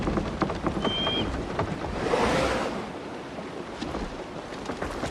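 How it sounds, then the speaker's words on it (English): Rain falls in the video game Assassin's Creed Shadows as a dense, continuous hiss of drops with a broad swelling wash in the middle, fairly loud and without talk. "Just listen to that rain."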